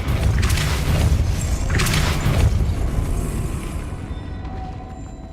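A Depulso spell is cast in the Hogwarts Legacy video game, giving two deep booming whooshes about a second apart that fade into a low rumbling tail.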